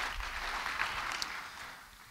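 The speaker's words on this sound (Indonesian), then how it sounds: "Beri tepuk tangan yang baik bagi dia." A church congregation claps for a pastor's sermon, a broad wash of applause that is moderately distant and fades gradually over about two seconds.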